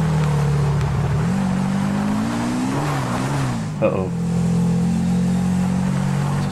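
A motorbike engine in Grand Theft Auto V on PS3, climbing Mount Chiliad, holds a steady loud drone that dips and rises in pitch as the revs shift, while a player speaks briefly over it.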